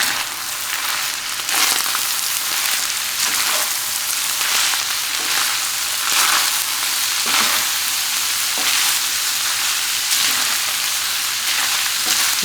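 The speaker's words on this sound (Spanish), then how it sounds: "Y también es aquí donde le vamos a poner los chiles que asamos. Y los revolvemos." Ground beef with roasted chiles, onion and garlic fries in a pan as it is stirred, a loud, steady sizzle broken by scraping, shuffling stirs, with no talking.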